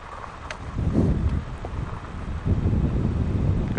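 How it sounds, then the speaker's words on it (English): Wind gusts along back roads, buffeting the microphone with a steady low rumble that swells in waves, with no talking. "Got some wind right there, pretty good."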